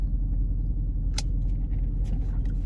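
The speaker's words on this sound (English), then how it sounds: "There's a Cox van going by me right now." A Cox van rolls past on a street beside a parked car, heard as a steady low engine rumble with faint brief higher noises above it.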